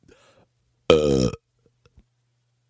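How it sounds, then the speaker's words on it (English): One loud wet belch, a single short guttural burst about half a second long, following a brief spoken word and then dropping into near silence. "I reward said website with the dreaded Under Country Music News Wet Belch of the Week, and it sounds something like this"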